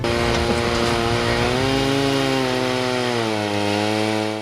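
A motorized reciprocating saw drones loudly and continuously as it cuts through wood at a forest festival, its pitch sagging slightly under load.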